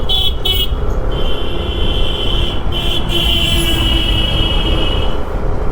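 Toto e-rickshaw riding along a local road toward Naihati, with a steady loud rumble of traffic and wind and a sustained horn toot blaring through most of the ride, no talking.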